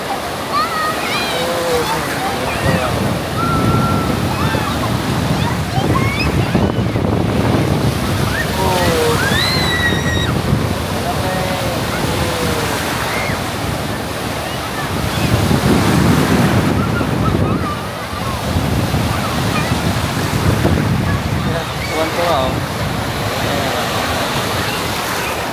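Ocean waves and strong wind at a beach with cold water, surf rolling and crashing in repeated swells under constant wind buffeting the microphone, while people talk and call out excitedly.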